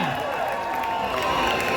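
A crowd at a DCP political rally in Kiambu, Kenya, claps and cheers for gubernatorial hopeful John Mwaura. The applause is steady and loud throughout, mixed with voices in the crowd.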